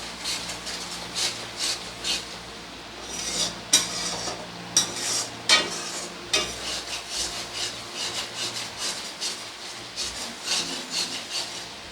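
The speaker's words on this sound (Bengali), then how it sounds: "তো এবারে সমস্ত কিছুকে একসাথে খুব ভালোভাবে কষিয়ে নেব।" Masala with green chilli paste is stirred and sautéed for Bihari-style mustard katla fish, making repeated rhythmic scraping and rubbing strokes in the pan over a faint sizzle, close by and without speech.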